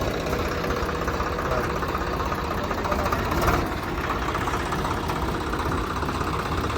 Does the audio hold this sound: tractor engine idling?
yes